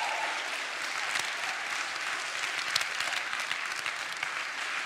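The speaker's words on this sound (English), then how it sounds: "You should clap like you're about to manifest something brilliant." A large audience claps at a motivational speaking event, a steady, dense wash of applause that stays fairly even for about five seconds with no talking over it.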